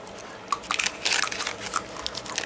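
Someone bites and chews a stiff, brittle piece of 31-year-old trading card bubble gum, giving soft, close crunching and crackling bites with small irregular snaps for a couple of seconds.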